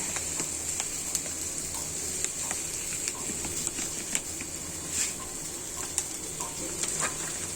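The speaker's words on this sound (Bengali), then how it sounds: "নারকেল চিনি শ্যামাই তেল সুন্দর করে এটা ভাজা করে নিব" Semai vermicelli fries in oil with coconut and sugar, giving a steady bright sizzle with scattered small pops and ticks throughout.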